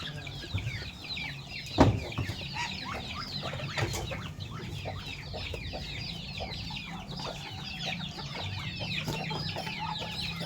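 Chickens cluck on a provincial farm where ducks are also kept, a scattered, continuous chorus of soft clucks at moderate distance, with one louder squawk near the start.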